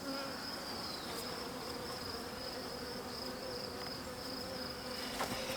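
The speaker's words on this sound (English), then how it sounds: "Hopefully the bees will get out of the way if I just give them some time." Honey bees buzzing around an open hive, a dense steady drone of many insects with individual bees zipping close by, fairly quiet and continuous, no speech.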